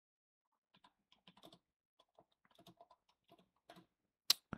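Keys clacking on a computer keyboard in short, irregular bursts and isolated taps, close and fairly quiet, ending with a couple of sharper, louder strikes; no talking.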